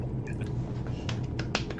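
Several crisp finger snaps, a few quick clicks spread over a second or two, heard close over steady low room hum during a casual live-stream chat setting.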